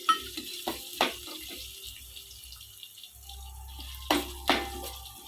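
Chana dal and urad dal are stirred in a pan on the stove, with intermittent scraping and clinking of a utensil over a faint sizzle and a low hum.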